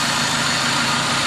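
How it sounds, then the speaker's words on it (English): A Dodge Neon car engine idles close by, a loud, steady low rumble that holds level throughout the short stretch, with no talking over it. "the engine is running"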